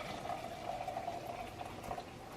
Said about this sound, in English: Now the water's is good, you know. It's boiling.